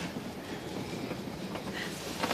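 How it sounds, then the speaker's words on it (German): A railway carriage on the Semmering line rumbles steadily along the track, with continuous broadband clatter and faint rhythmic wheel clicks, heard from inside the train. "Es ist nicht nur eine Eisenbahnfahrt,"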